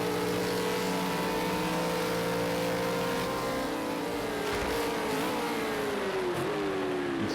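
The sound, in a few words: V8 Supercars racing down the front straight in a racing game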